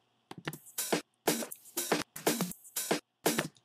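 A dry, punchy drum loop with short bursts of hits and crisp cymbal noise in a repeating pattern, narrow and centered, no talking.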